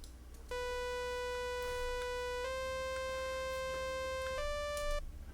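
Novation Peak synthesizer on an initialized patch, playing plain, sustained tones that step down in pitch a few times over several seconds, fairly quiet, with faint background noise and clicks and no talk.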